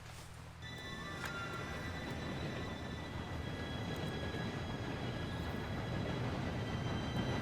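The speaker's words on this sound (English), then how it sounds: "Train should be here any minute now." A steam train approaching in the Red Dead Redemption 2 video game, a steady low rumble with faint whistling tones that swells gradually and stays constant and fairly quiet.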